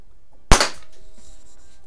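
A Gamo AF-10 air pistol fires once inside a garage, a single sharp close crack with a brief ringing tail, followed by quiet room tone.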